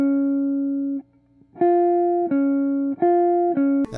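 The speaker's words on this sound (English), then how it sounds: "That's both notes ringing, but I'm rolling it." Electric guitar notes in a swing and bebop line, two notes ringing together with a rolled fingertip rather than a barre; clean sustained tones picked in a short sequence of four or five close, loud notes, alone with no talk.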